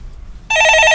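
A telephone rings during a radio call-in show on the stock market, a loud, bright electronic trill that starts abruptly partway through and continues to the end, with no talking over it.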